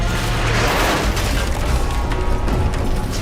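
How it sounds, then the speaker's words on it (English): A loud, rumbling explosion in the video game Call of Duty: Black Ops Cold War roars and crackles continuously, with debris-like bursts and low booms filling the whole stretch, no voices present. "Massive explosions have brought new gameplay with them."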